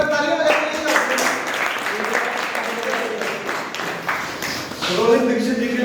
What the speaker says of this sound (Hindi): आज एक बार तालियां बजाइए